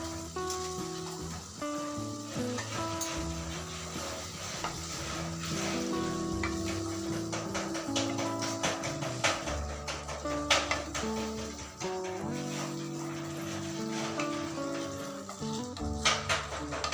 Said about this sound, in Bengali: সবশেষে একটু কাসুরি মেথি দিয়ে ভালো করে নেড়ে নামিয়ে নেব